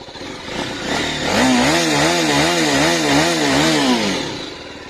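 A BMW G310RR motorcycle engine in urban riding mode revs up close, its tone rising and dipping in a quick, regular wobble of throttle blips before easing back down.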